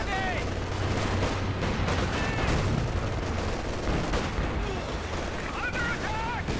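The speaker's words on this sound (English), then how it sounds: "Incendiary barrage onto this Vet 3 81mm mortar." An incendiary artillery barrage in Company of Heroes 2 falls on an 81mm mortar position, with rolling booms and gunfire rattling continuously under a voice talking throughout.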